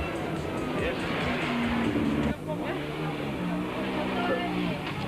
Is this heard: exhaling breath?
no